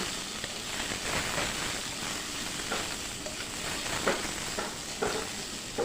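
Potatoes frying in oil with salt and turmeric, a continuous bright crackling sizzle held at an even level, with a few soft stirring scrapes and no talking.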